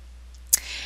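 One sharp, close mouse click while navigating a class-schedule web page, followed by faint hiss.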